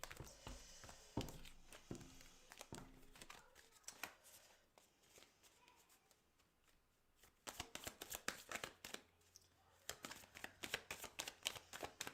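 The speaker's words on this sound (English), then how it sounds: "Just want to give the cards a bit of a shaky off." Tarot cards are shuffled up close in quick clusters of crisp riffling taps, pausing briefly in the middle before resuming with sharp flicks, with no talk.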